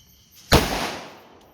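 A kuyil firecracker bursts once in a sharp, loud bang at a New Year celebration, its crackling tail fading over the following second with no voices present.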